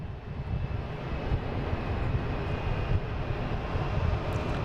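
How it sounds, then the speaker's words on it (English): A small Cape Air plane takes off at Boston Logan, bound for Martha's Vineyard, giving a continuous engine drone that builds slightly and holds steady, moderately loud and unaccompanied by talk. "They have a Cape Air in front of it taking off"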